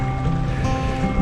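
A creek flowing through the woods gives a steady, close, full-bodied rush of water that continues without a break, with no voices.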